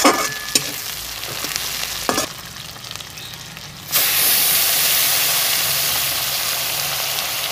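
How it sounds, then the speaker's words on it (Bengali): Nigella seeds tempering in hot oil with fish frying, a few sharp clatters and scrapes first, then a sudden loud steady hissing sizzle that continues to the end. "তো কালো যদি কালো জিরে ফোড়ন দিয়ে দিলাম"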